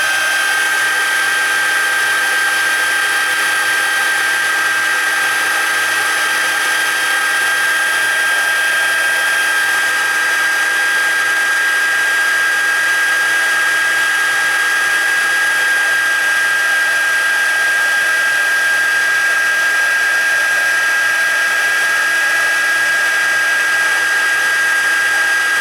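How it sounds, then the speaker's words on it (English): An embossing heat tool used in rubber-stamp crafting runs continuously and loudly for the whole stretch, a steady high whine with an airy fan hiss, unchanging and alone without speech. "is me using my heating tool, which will make a little bit of noise"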